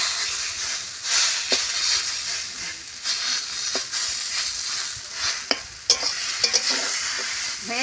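Taro leaves and shrimp stir-fried in a pan over a village-style fire, with a steady close sizzle and hiss beneath repeated scraping stirs and occasional sharp clinks of the utensil against the pan.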